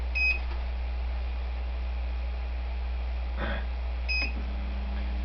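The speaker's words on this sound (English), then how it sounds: "At least the beeping is about to stop." A 3D printer beeps twice, a short electronic bleep near the start and another a few seconds later, over a steady low hum and a faint clatter in between.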